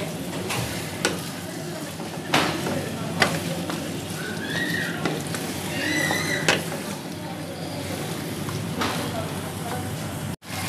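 Two kilograms of chicken frying and being stirred in a pot for achari chicken salan, with a steady sizzle and intermittent sharp spoon clatters and scrapes close by, plus some faint background chatter.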